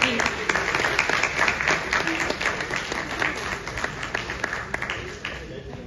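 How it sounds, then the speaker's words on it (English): Steady audience applause after a medical lecture on mechanical ventilation, a continuous wash of many hands clapping at even loudness throughout, with faint voices underneath. "Huge round of applause, please."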